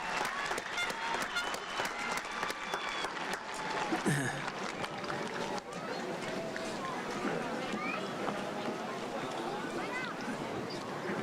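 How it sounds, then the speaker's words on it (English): A crowd applauds at a Hobbs High School 2023 commencement ceremony, continuous clapping that holds steady for about eleven seconds, with a voice briefly heard partway through. "One more round of applause for them."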